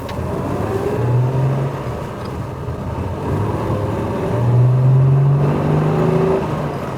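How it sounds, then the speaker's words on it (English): Classic Jaguar 3.4 S-Type with the XK engine, in show condition, accelerating hard on an open road: a deep, steady engine roar from inside the car, with pitch rising through the gears and swelling louder near the end. "Lovely Jaguar XK engine roar there."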